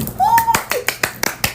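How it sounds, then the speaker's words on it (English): A voice is heard briefly, then a handful of sharp, close hand claps follow in a quick, uneven rhythm, each crisp and distinct. "Clap."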